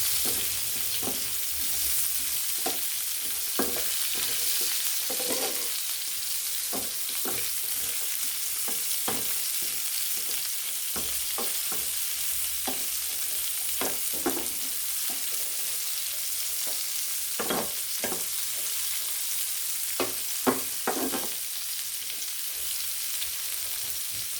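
Large-cut onion sautéing in a pan over a steady hiss of frying, with scattered spatula taps and scrapes at an irregular pace and no talking.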